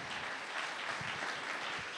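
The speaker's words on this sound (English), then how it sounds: "okay, we can clap about that." An audience claps together at a talk on Swedenborg, a steady, fairly loud wash of hand claps lasting the whole moment with no voices over it.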